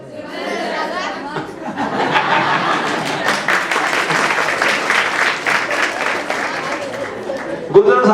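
An audience bursts into loud, sustained applause for the teachers at an interview with a school principal, building after a moment and mixed with chatter and chuckles, then fading near the end.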